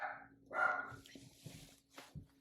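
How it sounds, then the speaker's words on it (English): A pet dog indoors gives a few sharp, close barks with a whimpering edge, short and irregular, with no talk over them. "What are you barking at?"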